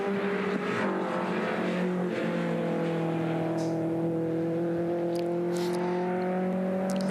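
Classic racing cars at Dijon, including a BMW M3, run on track as a steady, loud engine drone with shifting pitch and layered engine tones holding throughout.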